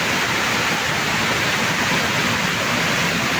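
Loud, continuous rushing floodwater during a typhoon roars without pause, a dense broadband wash of torrential flow close by.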